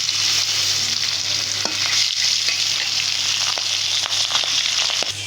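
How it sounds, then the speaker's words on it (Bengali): Fish pieces fry in hot oil in a wok, a loud continuous sizzle with scattered sharp crackles and occasional stirring clatter, no speech. "তেলটা গরম হয়ে গেছে মাছগুলো দিয়ে দিলাম আমি মাছ কেউ ভাজতে রাঁধবে না কিন্তু আমি একটু ভেজে নিলাম"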